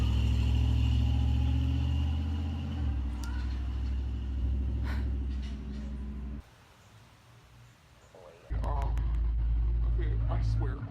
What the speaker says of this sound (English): why does everybody in my town have the loudest truck ever?